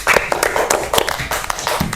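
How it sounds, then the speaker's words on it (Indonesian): Schoolchildren in an elementary science classroom clap their hands together in a short, close burst of applause. The clapping is loud and uneven, lasting about two seconds. "tepuk tangan untuk Hana."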